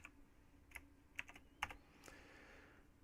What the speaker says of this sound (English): So let's type a message to Professor Plum